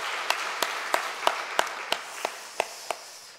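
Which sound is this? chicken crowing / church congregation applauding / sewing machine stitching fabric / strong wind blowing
church congregation applauding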